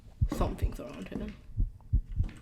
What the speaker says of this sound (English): What, the heartbeat?